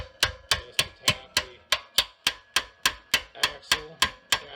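Steady hammer taps on a 3/8 extension driving the axle shaft out of a 2007 Honda VTX 1800 motorcycle, about a dozen sharp metallic strikes at an even rhythm, close and clear with no talk.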